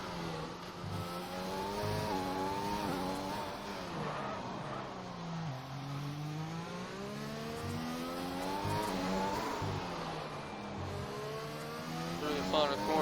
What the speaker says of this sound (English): He's really revving his higher gears out.